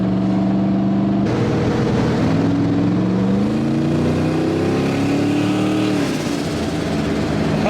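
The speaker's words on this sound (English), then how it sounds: "Boost noises." A 700 hp turbocharged Foxbody Mustang with an LS engine swap, heard loud and close from inside as the engine revs and climbs in pitch under boost, then drops off, with no talking.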